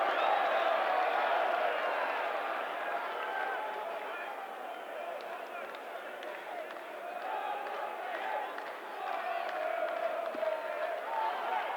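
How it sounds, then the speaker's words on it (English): Rugby league stadium crowd in Oldham versus Barrow match cheering loudly and continuously, a broad roar that dips slightly and swells again. "Listen to the cheer."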